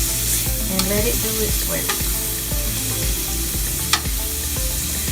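Aromatics sizzle steadily in a hot pan for sausage and peppers, a continuous close frying hiss with occasional stirring clinks and scrapes, while a person talks briefly over the cooking.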